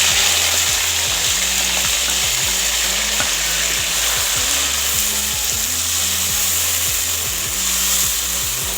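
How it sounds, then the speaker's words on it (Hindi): Chopped onion and tomato frying in a pan give a steady, loud sizzle that runs without pause, laid over a constant mechanical hum with a repeating low drone pattern, and no one talks. "ये जो मसाला हमने काट के रखा है प्याज और टमाटर, इसको भी डालकर थोड़ा सा नरम करेंगे"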